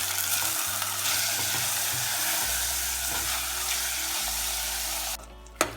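Chicken seasoned with salt and black pepper fries in a hot pan, a loud steady sizzle with stirring scrapes and clatter throughout, cutting off abruptly near the end with one final knock.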